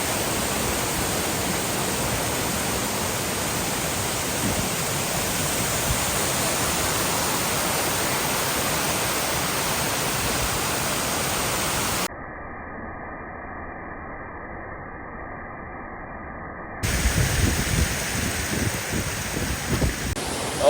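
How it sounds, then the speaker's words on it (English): Waterfalls on an Oregon hike roar as a loud, steady broadband rush for most of the stretch, briefly cut to a muffled rumble, then return with rougher close-up turbulence. "These 2 waterfalls are awesome"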